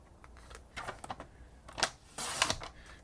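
A sheet of basic white cardstock is cut to 4 by 5 1/4 inches for a handmade Valentine card, giving soft scattered rustles, then a louder crisp slicing burst near the end, fairly close.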